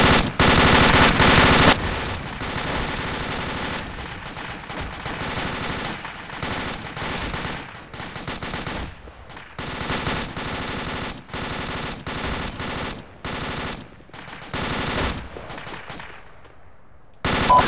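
A squad opens fire together in the Arma video game, loud sustained bursts of automatic gunfire with scattered single shots, rattling on and off for nearly twenty seconds with no one talking.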